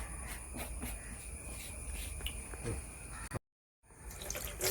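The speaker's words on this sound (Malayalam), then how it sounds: "നമ്മൾ ഈ ഹാൻഡ് പമ്പിലേക്കാണ് ഒഴിക്കുന്നത്" Liquid pours in a steady trickling stream into a hand pump sprayer, close by, stopping abruptly for a moment before resuming.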